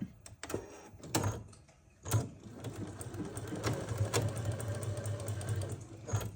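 A Juki DX4000 sewing machine stitches quilt blocks, starting with a few clicks and thumps, then settling into a steady, fairly soft mechanical whir.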